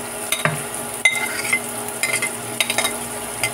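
Spring onion is fried in a pan and stirred, with a steady sizzle under repeated scraping and clinking of a utensil against the pan. The stirring strokes come close together and are heard without talk.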